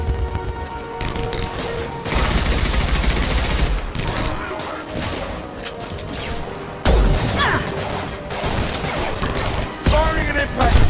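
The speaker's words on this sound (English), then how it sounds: "Firing an impact gun!" Heavy gunfire from an impact gun in Mass Effect Legendary Edition, loud repeated blasts and crashing impacts coming in bursts across a chaotic battle, with voices calling out between the shots.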